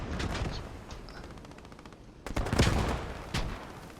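Grenade blast and gunfire in the WWII shooter Post Scriptum: a crackle of distant rifle shots, then a heavy thud of an explosion followed by another sharp report, moderately loud in an open battlefield.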